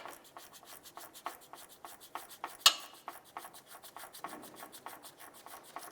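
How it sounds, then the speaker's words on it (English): Quiet, rhythmic scraping and ticking from a tool loosening a worm-drive hose clamp on a transmission line at the lower radiator of a 2001-2005 Honda Civic, with one sharp metallic click midway. "loosen our worm clamp on our transmission line"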